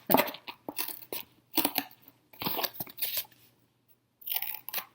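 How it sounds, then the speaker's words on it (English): Scissors chop through a cardboard box in bursts of crunchy snips, pausing between cuts, all heard up close with no talking. "I cut one of the flaps, and then I'm going to cut this in half"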